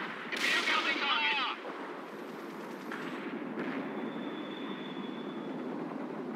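Bursts of gunfire and battle noise from the PC strategy game World in Conflict crackle loudly at first, then give way to a rumbling mix with a thin tone, under quiet game radio chatter.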